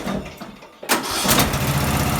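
A racing lawn mower engine cranks and catches abruptly, then settles into a loud, close mid-pitched idle that runs on steadily.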